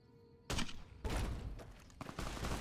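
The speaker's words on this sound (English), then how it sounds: "Dude, we're just popping shots." Video game gunfire crackles in several sharp, loud bursts separated by brief gaps, like rapid volleys of shots, with no voices over it.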